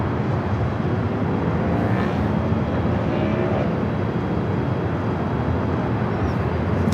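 A Delta Airlines airliner at Los Angeles airport produces a steady, loud jet roar that fills the air continuously and heavily, with no break.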